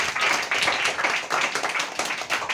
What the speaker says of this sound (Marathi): जोरदार टाळ्या वाजवा त्याच्यासाठी